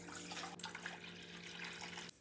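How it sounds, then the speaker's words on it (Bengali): Vinegar poured into a cooking pot, a continuous close liquid stream with a low steady hum beneath, stopping abruptly near the end; quiet overall with no talking. "একটা হাঁড়িতে দিয়ে দেব 2 কাপ ভিনেগার,"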